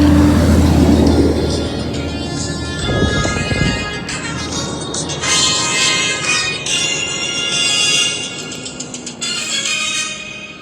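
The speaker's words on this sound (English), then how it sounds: "There's a big truck coming." A large truck rumbles past on a road, loud and close at first, with engine roar and tyre noise sweeping through and a steady traffic drone continuing behind it.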